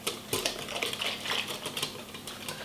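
Batter for a far breton is mixed in a bowl, giving faint, rapid, irregular clicking and tapping of a utensil against the bowl throughout.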